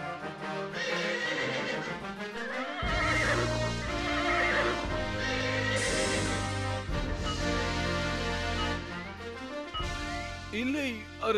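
A horse in an animated Tamil folk tale neighs loudly in long, wavering whinnies, repeated several times with some clip-clop of hooves and other sound layered around it.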